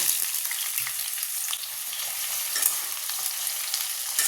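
Chopped onion fries in sugar melted in a pan, giving a steady, close, even sizzling hiss with faint stirring scrapes and no talking.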